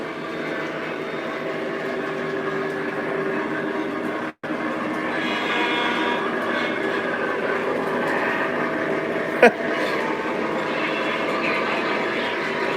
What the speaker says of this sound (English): we'll pull the train that's on there now that has the 3 sound cars